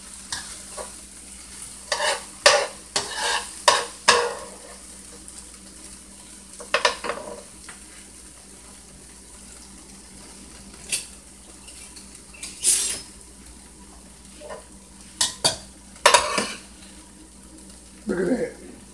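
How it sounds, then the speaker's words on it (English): Onions and green pepper saute for beef short ribs, with a low sizzle under repeated sharp scrapes and clatters of a utensil stirring in the pan, coming in irregular bursts. "All these sauteed onions and green pepper."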